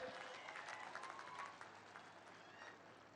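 An audience at a political rally in Kittur, Karnataka claps for a leader's birthday, a thick burst of applause that eases after the first second and a half into a quieter, steady patter, heard at a distance.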